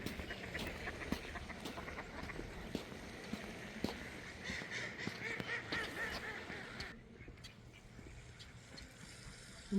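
Ducks calling at Mammoth Lake, California, in falling snow and rain: a run of quacks and chatter over steady wet background noise, a busy cluster midway, then quieter toward the end.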